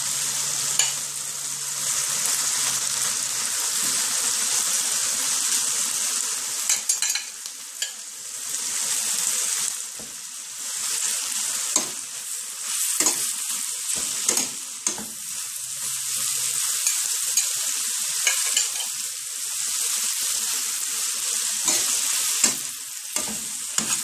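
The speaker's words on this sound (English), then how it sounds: "So to this, I'm going to add some ackee." Ackee is stirred into rice frying in a pan, giving a steady close sizzle broken by repeated scraping and stirring knocks throughout, with no talking.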